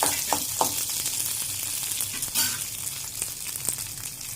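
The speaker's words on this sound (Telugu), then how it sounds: "కొద్దిగా మిరపకాయలు వేపుదాం ఇప్పుడు పచ్చడిలోకి" Green chillies fry in a spoonful of oil for an Andhra-style coconut and raw mango chutney, a gentle steady sizzle with occasional light taps and stirs, quiet and close.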